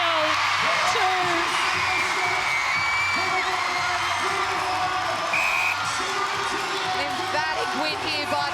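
Crowd at a Thunderbirds v Vixens Super Netball match roaring and cheering steadily, with whoops rising over the noise and a commentator talking over it.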